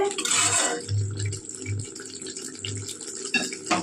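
Water is poured into a pan of mustard fish curry masala, giving a brief gushing splash at the start and then soft, intermittent trickling and bubbling, quiet and close.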